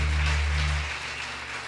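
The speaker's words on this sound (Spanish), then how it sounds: "Fuerte los aplausos para ellos porque están aquí" A church congregation applauds during a Catholic mariachi service in Tacaná, San Marcos, Guatemala, a dense wash of clapping that follows a fading low hum and continues steadily without talk.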